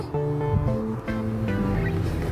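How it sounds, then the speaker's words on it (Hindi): A kitchen mixer grinder whirs loudly as it blends a sabudana chutney with curd and water, a droning motor whine that shifts in pitch as the blades churn the mixture. "तो इसको अभी हम पीस लेंगे।"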